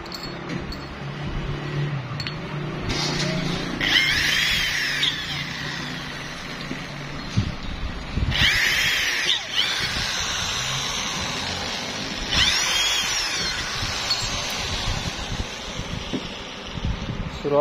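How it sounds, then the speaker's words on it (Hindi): A power drill bores into the aluminum frame of an 18x24 ventilator at an aluminum workshop. The motor whines in three separate bursts that rise and fall over a noisy, rumbling background. "अभी हम इसमें ड्रिल कर लेंगे"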